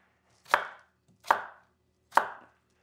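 Three evenly spaced knife chops through potato into cubes on a cutting board, each a crisp close thud with a short tail, alone in a quiet kitchen.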